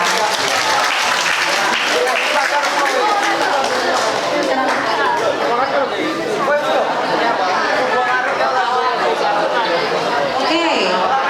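At a school seminar on preventing bullying and drug abuse, an audience claps continuously in a dense, steady wash, mixed with crowd chatter throughout.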